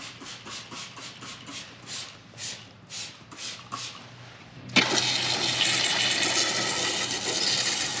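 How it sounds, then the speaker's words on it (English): A hose sprays water over a John Deere JX75 lawnmower. Faint rhythmic swishes come first, then a loud, steady rushing spray begins abruptly about halfway through and continues to the end with no talking. "So we'll get this sprayed down and we'll hose it off."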